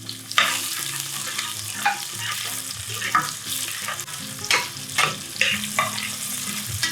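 Garlic and onion frying together in hot oil, a steady sizzle broken by repeated stirring scrapes and bursts of spatter, close and fairly loud throughout.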